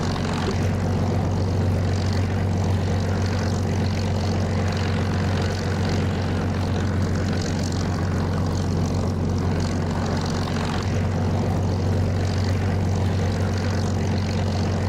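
A propeller aircraft engine idles while taxiing at around 1400 RPM in the DCS flight simulator game, a steady, droning low hum with a constant buzzing tone, unbroken and close, without talk.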